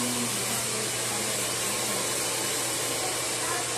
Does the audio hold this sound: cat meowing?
no